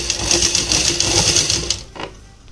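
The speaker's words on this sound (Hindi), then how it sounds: "इस कपड़े को हम इस बुकरम के ऊपर पलट के इसको चारों तरफ से सिलाई कर देंगे" A sewing machine runs in a fast, close, steady stitch as fabric is folded over buckram around a kurti neckline, then stops abruptly with a faint click or two afterward.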